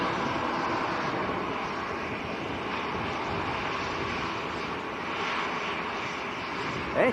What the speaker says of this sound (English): EasyJet next to go. Airbus A320.